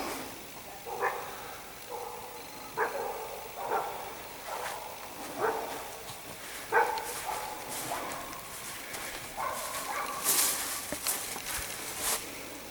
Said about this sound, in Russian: Собаки разлаялись что-то.